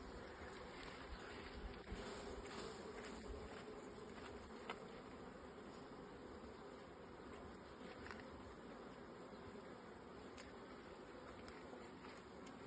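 Honey bees drone steadily at a beehive being reduced because it has no queen, a dense, even buzz with no breaks, close by and faint, with scattered louder passes of single bees.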